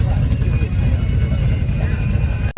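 A 1923 Ford Model T Huckster engine idles and revs at an antique car show with a steady low rumble throughout, loud and close, with a faint high whine above it.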